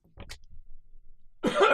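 A quick burst of coughs up close, followed after a short pause by a louder, rougher cough.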